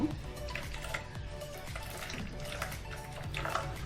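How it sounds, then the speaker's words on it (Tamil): Ragi and water mixture, for a ragi and palm-jaggery halwa, strained through a large sieve: a steady wet splashing and trickling of liquid runs close by throughout, with no talking. "இப்போ வடிகட்டிக்குவோம் கொஞ்சம் பெரிய வடிகட்டியில் வடிகட்டிக்கோங்க"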